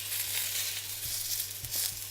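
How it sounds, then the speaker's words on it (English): Salmon sizzling in a hot pan, a steady close crackling hiss with a few soft bumps and stirring sounds, no talk. "So you can hear it sizzle"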